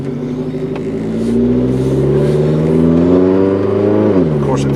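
Mazda Protégé 5 engine revving hard under acceleration, a loud, steady rising drone with climbing harmonics that dips near the end, heard up close from inside the car.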